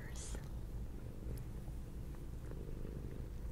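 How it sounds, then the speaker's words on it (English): A cat purring softly and steadily, a low continuous rumble heard up close in a quiet room. "she would like to relax you with her lovely purrs"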